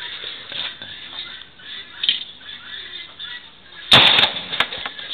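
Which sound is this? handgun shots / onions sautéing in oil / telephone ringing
handgun shots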